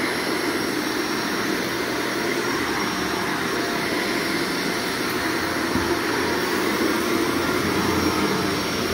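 Canister vacuum with a clear canister running over very old, dirty blue carpet, a loud steady roaring whine held close and unbroken throughout, with no voices.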